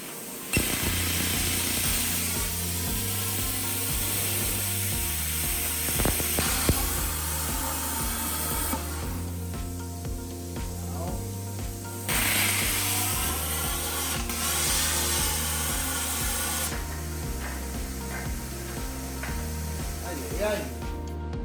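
A tool cuts out metal tubing on a tubular front suspension to clear a steering rack, grinding steadily and loudly with rhythmic mechanical pulses for about twenty seconds.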